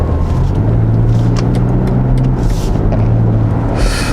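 A low, steady engine drone fills the cabin of a BMW X5 xDrive 30d with M Sport package driving in sport mode, a constant rumble with slight rises and a whoosh of road and wind noise, no talk.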